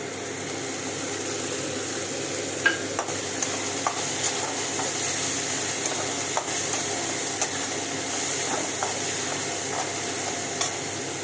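Onion paste frying in a pan for chicken roast gives a steady close sizzle, broken by soft scraping and clicking from stirring, with no talking.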